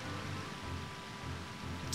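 A waterfall in Zelda: Ocarina of Time makes a steady, dense rushing hiss that fills the background evenly, with low game music underneath and a brief bright swell at the end.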